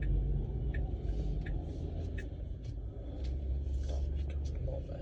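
A car engine idles while stopped at a red light, a steady low rumble with faint interior road hum throughout and no clear voice.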